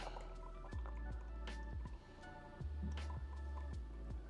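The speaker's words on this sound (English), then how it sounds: "That looks like a bird fountain to me." Water from a homemade bird fountain, driven by a small pump plugged into a power bank, drips and splashes in a quick irregular patter of close, wet drops, with a faint steady pump tone underneath.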